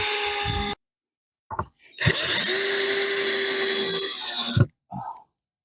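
A power drill drives 3-inch screws into a recycled wood garden bench seat: a short whirring burst, then a longer steady high-pitched run of about two and a half seconds, loud and close, separated by silent pauses.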